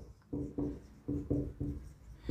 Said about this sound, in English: So we will write that Sonia takes